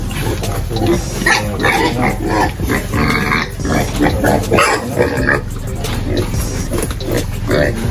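Pigs grunting and squealing in a pen on a provincial Filipino backyard piggery, about three and a half months old, loud and continuous with a person talking over the animals throughout.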